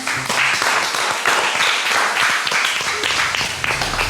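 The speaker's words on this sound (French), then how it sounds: "On applaudit la renoirité." Audience applause breaks out in a crowd at a live comedy show, a dense, even patter of many hands clapping loudly for about four seconds without letting up.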